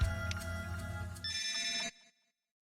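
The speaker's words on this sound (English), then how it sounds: "Sorry, I'm getting a phone call." A phone ringtone from the video game Another Eden plays alone, a bright electronic melody of layered tones lasting about two seconds before cutting off abruptly into silence.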